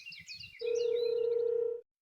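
A mobile phone placing a call gives a few short electronic beeps, then one steady ringback tone that holds for over a second and stops abruptly.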